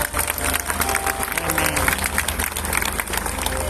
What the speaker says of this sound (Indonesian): Kita tepuk tangan untuk Tuhan Yesus.